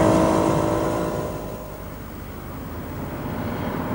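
1990 Honda NSX accelerating hard in third gear toward 7,000 rpm, a loud close engine roar with a rising whine that dips, then holds steady as the car pulls away.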